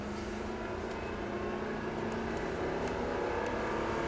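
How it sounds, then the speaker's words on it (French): A car accelerating steadily on a race track during a driving session, its engine a loud, continuous drone that holds for the whole stretch with no talk over it. "on va pouvoir accélérer progressivement jusqu'à la droite de la piste"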